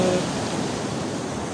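Sea waves break on a rocky shore in Palawan, a loud, close, continuous roar of surf and rushing water filling the whole moment, with no voices over it.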